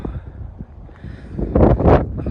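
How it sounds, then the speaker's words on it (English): Wind gusts buffet the microphone on a hilltop trail near the summit of Nicky Nook, a rough rumbling roar that swells louder toward the end. "It's getting windy as we get up the top now."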